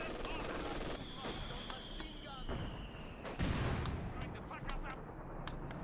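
Artillery shells land in a Company of Heroes match between German Wehrmacht and Soviet forces, a dense run of booming impacts and crackling gunfire continuing through the stretch, with one heavier blast about midway, while a commentator talks over it.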